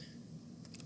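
Light clicks of typing the word Control on a computer keyboard to open Control Panel, a short run of close, quiet key taps over a steady background hum.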